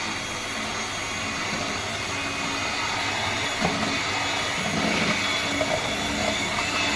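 An electric beater whips homemade vanilla ice cream mix made from milk. Its steady, close, loud motor whir runs without a break.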